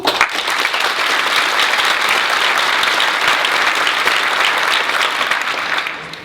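An audience at a theatre show bursts into loud, full applause that sustains evenly for several seconds before tapering off at the end.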